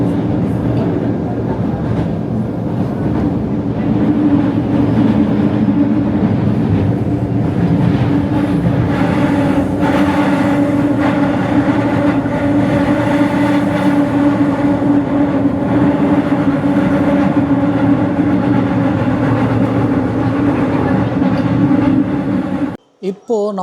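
Seoul subway train running between stations toward Gangnam, a steady loud rumble of wheels and motors heard from inside the car, with people talking over it and a brief clatter at the end.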